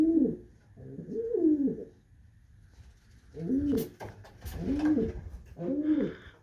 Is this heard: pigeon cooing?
yes